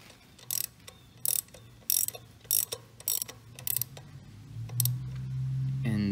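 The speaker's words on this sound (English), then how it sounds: "You get your 17 mil wrench and you're gonna tighten it half a turn." A 17 mm wrench tightens the cam chain tensioner nut on a Kawasaki Vulcan 750, making several sharp ratcheting metal clicks in short bursts, followed by a lower rising mechanical whir near the end.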